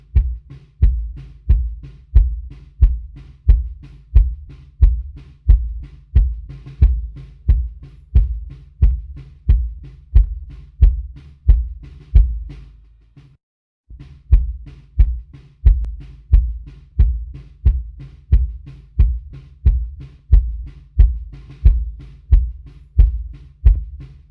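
A music mix with heavy, evenly spaced low thumps plays loud and alone, switched between phase-reversed and normal polarity, with one brief gap near the middle where the sound cuts out.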